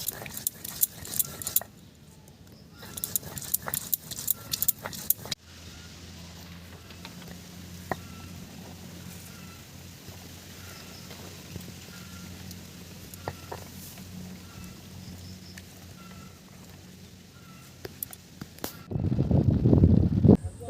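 Poppy seeds and green chili ground on a flat stone slab with a little water, heard as a run of brisk, rhythmic scraping strokes up close that soon gives way to a quieter, steady background hum.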